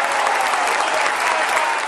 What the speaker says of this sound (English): The faithful clapped and cheered